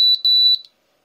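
Laser detector emitting a short burst of rapid high-pitched electronic beeps as it locks onto a laser line, a bright, close tone pulsing several times before cutting to silence.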